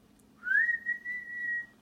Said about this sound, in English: I did teach her how to whistle like this.